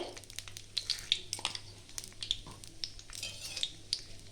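Bay leaves, dried red chillies and panch phoron frying in plenty of mustard oil, with faint crackling and popping, scattered light clinks of a utensil, and a low background hum, no talk.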